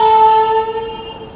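A loud, steady train horn blares at the start, a sustained two-tone blast that holds and then fades slightly over a second and a half.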